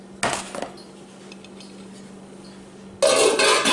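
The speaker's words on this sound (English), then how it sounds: "Yep, that lid will fit that frying pan." Gotham Steel cookware lid and frying pan being handled, giving two bursts of metallic clatter and clinking, a short one near the start and a louder, fuller one at the end, with a quiet steady hum between.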